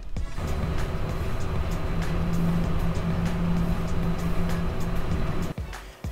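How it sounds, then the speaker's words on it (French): Dense, steady street traffic near a city avenue, a continuous roar of passing cars and engines with a low hum underneath, loud and unbroken for several seconds before briefly dipping at the end. "Tout autour de moi, il y a beaucoup de circulation et donc beaucoup de bruit ambiant."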